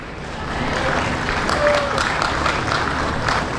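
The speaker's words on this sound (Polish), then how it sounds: "Brawa dla rolników." Applause from the crowd greets farmers and their families at a county harvest festival in Jedlińsk, a steady clapping that swells briefly and holds at a moderate level for a few seconds.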